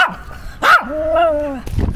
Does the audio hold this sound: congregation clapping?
no